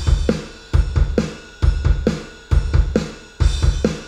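A basic programmed drum pattern for the pre-chorus of an alt punk song, punchy kicks and crisp snare hits repeating in a steady loop, loud and dry with no other instruments.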